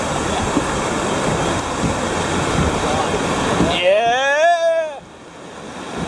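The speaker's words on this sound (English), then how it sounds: "Oh God, the waves." Whitewater rapids rushing loudly on the Okatoma River during a kayak run, a steady churning roar that carries through the first four seconds before a voice shouts out over it.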